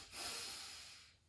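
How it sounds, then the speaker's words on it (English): A single long breath is drawn in through the nose, a soft airy hiss swelling and then fading over about a second, close and quiet with no talking, as part of a double-inhalation breathing technique. "we'll be taking a double inhalation"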